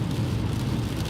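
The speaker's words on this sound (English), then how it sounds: "I hate driving behind a truck in the rain" Rain and road spray wash over a car driving behind a truck, a constant, heavy hiss with a low rumble of tires and engine underneath, loud and unbroken with no talking.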